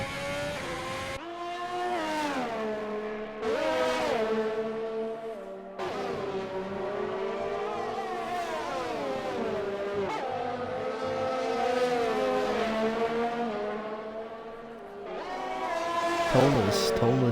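A Formula-style race car in a racing game, pulling away from the pits on cold, hard-compound tires, its high engine note climbing through the gears in repeated rising sweeps, near and loud, with brief gaps between shifts.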